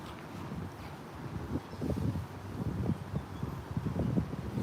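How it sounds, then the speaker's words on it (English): Gusty wind buffets the microphone in low rumbling bursts, steady and close, with a faint rustle beneath. "Wind is blowing out my ear, blowing out everything."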